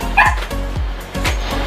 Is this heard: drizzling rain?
no